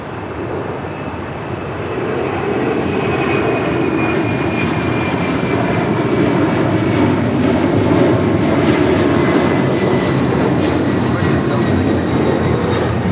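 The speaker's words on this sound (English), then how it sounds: "Korean Air Super should be making that left-hand turn onto taxiway Lima" A Korean Air airliner taxis at Los Angeles International Airport, its jet engines giving a loud, steady roar with a high whine that swells over the first seconds and then holds, with faint talk underneath.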